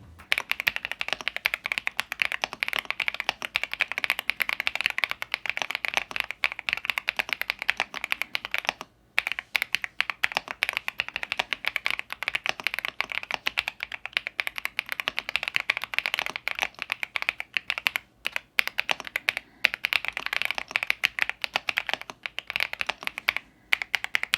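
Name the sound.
mechanical keyboard typing sound test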